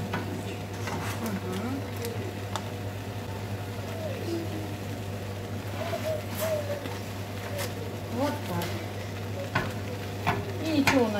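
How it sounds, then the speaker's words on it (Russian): Fish fries in a pan with a steady, soft sizzle close by, joined by occasional clinks and stirring sounds of a utensil. "Проверяем, все ли жужжит, все ли жарится."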